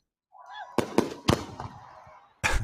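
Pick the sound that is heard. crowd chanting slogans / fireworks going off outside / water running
fireworks going off outside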